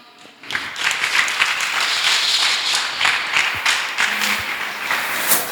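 Audience applause at a church gathering, starting abruptly after a brief silence and continuing as steady, fairly close clapping for about five seconds.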